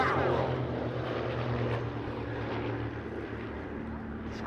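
A Grob Tutor propeller trainer flown by the Universities of Wales Air Squadron pulls up into a barrel roll at the Duxford summer airshow, giving a steady, loud, droning engine hum with a faint murmur of voices beneath it.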